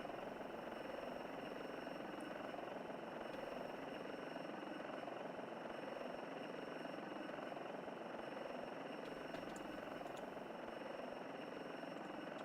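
A simulated helicopter drones continuously in a flight simulator game, a steady dense engine and rotor hum, even and fairly faint with no talk.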